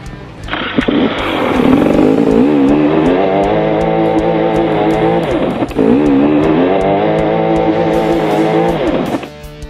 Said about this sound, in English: I'm busy spinning my wheel up and I'm not going anywhere